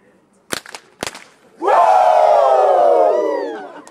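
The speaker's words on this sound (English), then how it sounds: "Can we get two claps and a Ric Flair?" A fraternity crowd at an Omega Psi Phi show gives two sharp, loud claps and then a long, sustained, roaring group "woo" in Ric Flair style that fades at the end.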